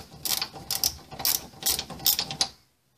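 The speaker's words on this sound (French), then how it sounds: "Autrement vous prenez une douille et un cliquet de 13." A ratchet with a 13 mm socket turns a rear brake bolt on a 2004 Renault Scénic 2, giving five or six quick clicking bursts at a steady rhythm, close and clear, then stopping.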